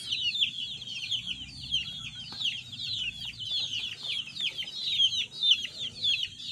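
A Tornado hatch gamefowl rooster of the Mt. Banahaw line, crossed with Gilmore hatch, gives a steady run of close clucks and chirpy calls over low background rumble, with no talking.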